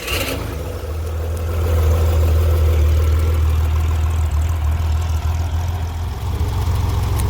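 A 1964 Corvair engine with a newly installed custom dual exhaust idles in a loud, steady low rumble close by, its pitch and loudness rising slightly after the first second and then holding even, with no talking.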